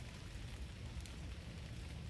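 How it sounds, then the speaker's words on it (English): Rain falls steadily as a faint, even wash of hiss, with no voices. "Feeling the rain coming down."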